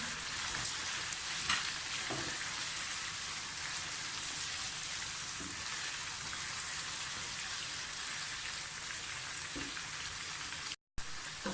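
Garlic ginger paste frying with chicken for Kashmiri chicken qorma, a dense, even crackling sizzle like steady rain, with occasional soft stir knocks and a brief break near the end.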